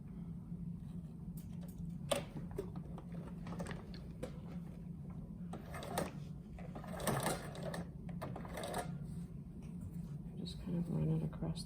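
A sewing machine runs in short bursts while stitching bias tape across the top of a fabric face mask, its whirring broken by pauses and fabric handling, with a voice talking softly in places.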